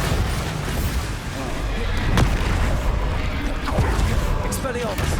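Bombarda spell blasts in Hogwarts Legacy combat, a couple of sharp booming bursts rising out of a dense, continuous wash of battle noise and effects, with speech woven in.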